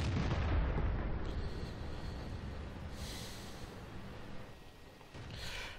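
A tank cannon fires in World of Tanks with a heavy boom that rolls off into a low rumble, and two fainter bursts follow later.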